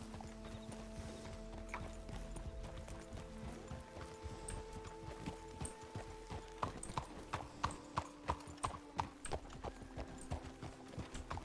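Horse hooves walking in the RedM video game, a steady clip-clop of several hooves that grows more distinct and evenly paced in the second half, with a faint whinny and background game ambience.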